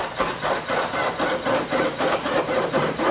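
A bell hanger drill bit bores through a wooden fire block in short, repeated bursts, a rough grinding-rasping sound pulsing about twice per second at close range.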